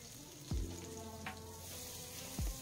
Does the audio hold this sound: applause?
no